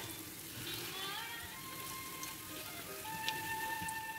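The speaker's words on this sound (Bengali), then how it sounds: "আর এখন হলো ভেজে নেওয়ার পালা।" Thin banana pitha frying in a little oil in a pan, a soft steady sizzle with faint crackles throughout, quiet and close.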